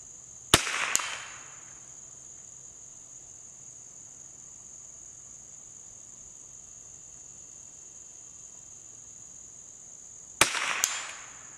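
.22 rimfire rifle fires at targets 100 yards downrange outdoors on a summer day: two sharp cracks close together, a long pause with a steady high insect drone, then two more sharp cracks near the end.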